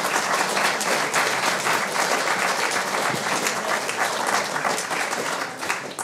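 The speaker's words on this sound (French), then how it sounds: "je pense que nous pouvons l'applaudir" Steady applause from an audience at a talk with author Chantal Thomas, dense clapping holding level before tapering slightly at the end.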